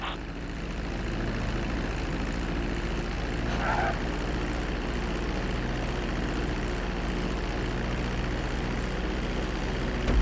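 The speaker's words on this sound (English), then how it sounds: "Start reducing the plane's altitude gradually so you're just above the runway as you approach." A propeller airplane's engine drones steadily while landing on a runway in a flight simulator game, a constant mid-level hum that holds evenly from start to finish with no talk over it.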